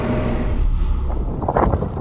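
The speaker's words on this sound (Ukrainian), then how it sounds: "Вітер такий, що аж шапку зносить." Strong wind buffets an open field where a Lemken Compact-Solitaire seed drill works in tall sunflower stubble, a steady, loud roar over low rumble throughout.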